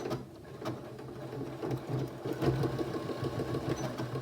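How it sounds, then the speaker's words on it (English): A sewing machine runs steadily, stitching through a fabric tray, its needle making a rapid, even mechanical chatter with slight surges in speed. The sound is fairly quiet and close, with no talking. "In this case, I'm sewing from the top down."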